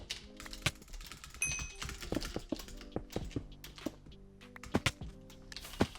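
Fast, uneven clatter of keys on a computer keyboard, close and crisp, in quick bursts with short pauses, over faint tonal game sounds in the background.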